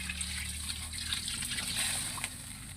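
Water trickles steadily into a cooking pot for Filipino sinigang na baboy (pork in sour broth with squash), a close, soft pouring sound under a low hum, with no talking.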